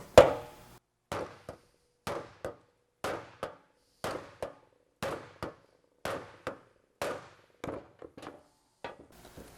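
A hammer strikes the steel body panel of a 1952 Cadillac convertible in a steady series of about twelve sharp, ringing metallic blows, close and loud with short pauses between them.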